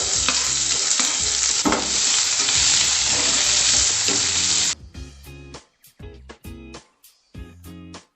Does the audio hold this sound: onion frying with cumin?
yes